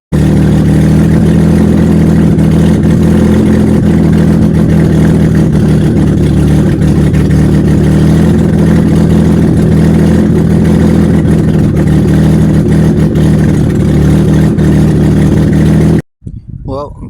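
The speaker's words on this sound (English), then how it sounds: "the Mustang is high idling like crazy" A Ford Mustang engine runs at a steady, high idle for a long stretch, a constant droning hum that cuts off abruptly near the end.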